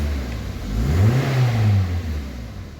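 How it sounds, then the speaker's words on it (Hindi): A 2009 Toyota Corolla engine runs after starting and revs up once, its pitch rising into a smooth swell and then easing back to a steady hum, close and fairly loud with no voices. "तो ये देख सकते हैं अल्हम्दुलिल्लाह हमारी गाड़ी भी स्टार्ट है।"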